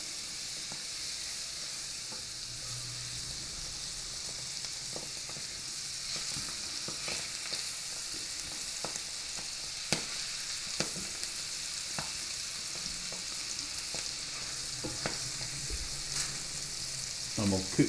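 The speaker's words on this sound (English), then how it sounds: "Gonna start cooking these partridges. This pan's hot. Here you go, the partridge breast." Partridge breasts frying in a hot pan, giving a steady, close sizzle with a constant bright hiss and small crackling pops scattered throughout, the sound holding even and moderately loud with no talking.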